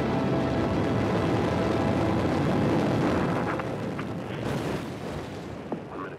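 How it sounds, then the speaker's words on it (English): The Space Shuttle Challenger breaks apart in a fireball after launch, heard as a broad, distant rumbling roar that holds steady before slowly fading, with a few faint crackles near the end. "In a fireball, the shuttle Challenger exploded 73 seconds after launch"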